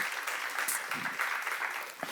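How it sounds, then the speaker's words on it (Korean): Clapping from an audience at a church seminar, a steady, moderately loud patter of many hands filling the room with no voices over it. "박수하세요."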